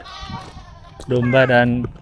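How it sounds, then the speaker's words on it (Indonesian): Mountain sheep bleating loudly and close, one drawn-out wavering bleat after a stretch of quieter background sound, with a voice nearby. "Dombanya domba gunung."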